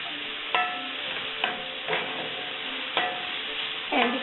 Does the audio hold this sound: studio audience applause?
no